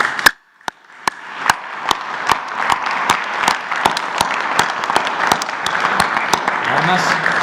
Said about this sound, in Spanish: a todos los deportistas, todos, un aplauso, ¿no?